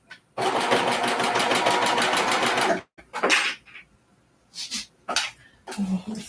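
A sewing machine top-stitches in one sustained burst of rapid needle chatter lasting a couple of seconds, followed by short scattered bursts and handling noises as the work is adjusted between stitches.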